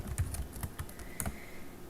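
Quiet, rapid keystrokes tap on a computer keyboard in a short irregular burst, soft and near, with no talking.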